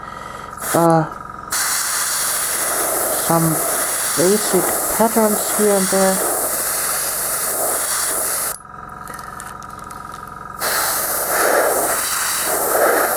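Aerosol spray can releasing brown paint onto a model Imperial Guard Chimera tank, a steady close hiss lasting several seconds that pauses briefly and then resumes, with someone talking over it.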